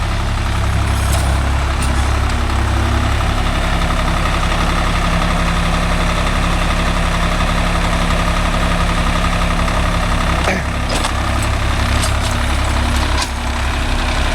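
A Swaraj 855 FE tractor fitted with a rotavator idles in a coconut grove, giving a loud, steady, close, low diesel rumble that never stops.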